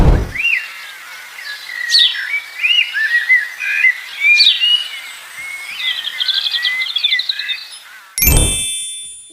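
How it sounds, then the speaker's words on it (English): A bird chirps and tweets in a lively run of close, bright calls and warbles, followed by a sudden ringing chime at the end. "Bird says chirp, chirp,"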